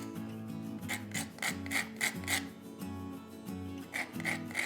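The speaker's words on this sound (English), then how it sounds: "we've got some fresh ground nutmeg to add in here too" Whole nutmeg is rubbed against a small grinder in quick rasping strokes, a rhythmic series of close, gritty scrapes repeating about twice a second with no talk.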